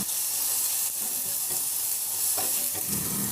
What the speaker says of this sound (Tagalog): Papainit muna ako ng mantika at igisa ko na rin yung bawang, luya.